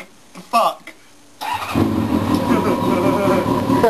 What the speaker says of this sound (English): It's a burnout.